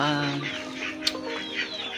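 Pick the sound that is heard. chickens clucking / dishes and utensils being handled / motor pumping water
chickens clucking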